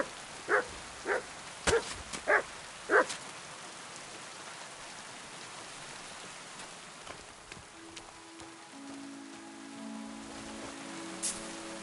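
The dog Mutt in Kingdom Come Deliverance 2 gives about five sharp barks in quick succession near the start, followed by a quiet, steady patter of rain with faint ambient tones.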